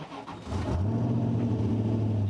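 A Drakan Spyder sports car with a Porsche 911 gearbox fires up by push-button start, a brief cranking whir catching into a loud, steady low idle that holds close and alone.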